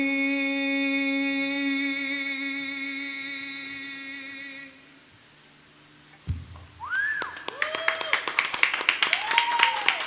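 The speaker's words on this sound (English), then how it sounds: "I appreciate the claps" Once a song ends and a few seconds of near silence pass, a small live audience at a St. Patrick's Day performance breaks into close, lively clapping, with whistles and whoops over it.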